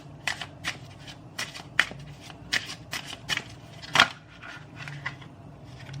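Tarot cards are shuffled by hand in quick, crisp riffling bursts with sharp snaps at irregular intervals, close and fairly quiet, with no talking over them.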